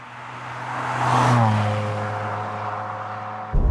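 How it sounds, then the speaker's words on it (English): A Ferrari 550 Maranello V12 revs up smoothly and loudly, pitch climbing through the gear, then easing off before a sharp shift near the end. "You forget just how smooth a V12 Ferrari is, and the power just keeps on building."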